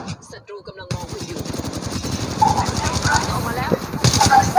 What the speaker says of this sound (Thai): มีสไนเปอร์ยิงนู้นด้านหลัง